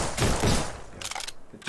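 Rapid gunfire from the indie video game Tall Order, two dense bursts of shots close together, then a short gap and a brief final burst, loud and unaccompanied by talk.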